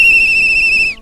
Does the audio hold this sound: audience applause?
no